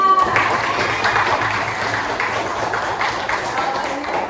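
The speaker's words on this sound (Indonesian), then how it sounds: "Tepuk tangan buat Tina." Brief clapping from students in a classroom after a correct answer, light and scattered, with tonal pings and some background voices underneath.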